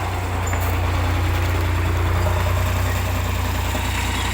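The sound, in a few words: crawler tractor engine under load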